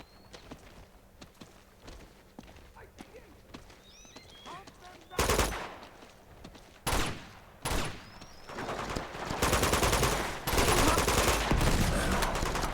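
Shotgun blasts boom in Uncharted 2 combat, several loud, close shots coming in irregular bursts over quieter footsteps and scattered gunfire, with occasional voices.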